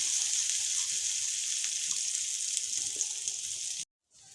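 A beaten egg fries in a hot pan for an egg dal with bottle gourd and potato, giving a steady, loud, close sizzling hiss that runs unbroken and then stops abruptly near the end.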